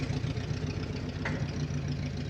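A farm tractor fitted with 3-point hitch pallet forks rumbles at a steady idle close by, a continuous low engine drone with no talking over it.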